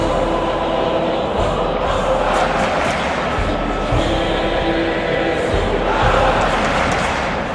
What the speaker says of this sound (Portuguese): Vamos sentir a emoção da torcida do Barcelona.